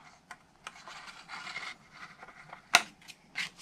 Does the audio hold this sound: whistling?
no